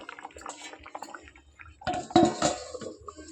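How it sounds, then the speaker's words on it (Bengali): Metal lid set onto a cooking pot of chicken with water added, a few soft scrapes and taps followed by a louder clattering clink and short rattle, close by. "এবার ঢাকা দিয়ে দেবো।"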